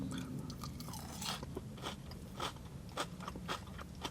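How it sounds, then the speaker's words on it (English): Crisp crunching bites into a takeaway hash brown, several sharp crackly bursts close up with chewing between them, no talking. "I think you could hear the crunch there. Really crispy and crunchy on the outside."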